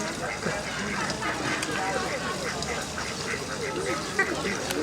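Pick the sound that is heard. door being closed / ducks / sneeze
ducks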